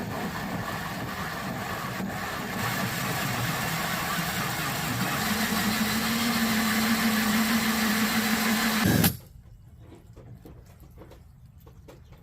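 A 2.5-inch hole saw bores through material during a koi pond filtration install, a steady loud motor whine with a rising grinding pitch that cuts off abruptly, leaving quiet handling noise.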